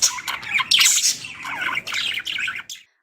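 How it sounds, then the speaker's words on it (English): A pet bird screeches in harsh, loud bursts, a rapid series of shrill squawks close to the listener that stop abruptly into silence. "Screeching or screaming can also come from boredom or overstimulation"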